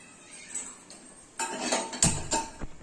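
A kadai pan set down on a kitchen stove with clattering metal clinks, followed by milk poured in, heard as a few scattered knocks and a brief splashing wash, moderately close with no talk.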